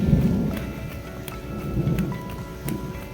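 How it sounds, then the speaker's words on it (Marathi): Steady rain pours outdoors during a run in a rainstorm, with deep rumbling thunder rolling underneath and a few sharp cracks standing out over the constant hiss. "पाऊस बघा मित्रांनो, कसं गरज आहे."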